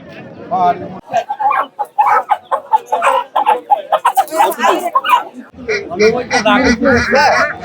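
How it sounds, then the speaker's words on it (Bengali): Roosters and hens at a busy poultry market crow and cluck close by, mixed with dense crowd chatter and a dog barking. People talk throughout. "দেখতে পাচ্ছেন বিশাল মোরগ ভাই এটা কি মোরগ"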